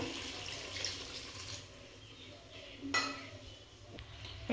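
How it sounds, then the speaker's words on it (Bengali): Water poured into a pan of green tomatoes and potatoes, a faint running splash with a metallic clink partway through and a brief clatter at the end, fairly quiet and close. "এবার আমি এর মধ্যে জল দিয়ে দেব"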